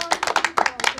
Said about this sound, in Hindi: चलिए सभी लोग ताली बजा दीजिए इनके लिए